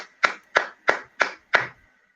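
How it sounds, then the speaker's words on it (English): A single person claps five times at an even, deliberate pace, each crisp, close clap ringing out alone in otherwise quiet surroundings. "I clap for you, sir."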